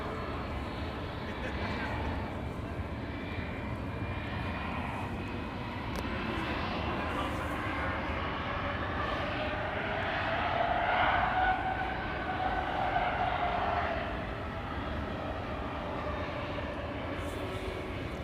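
A jet airliner taking off at Amsterdam Schiphol Airport gives off a low, steady distant roar that rises slightly partway through, with a person talking over it.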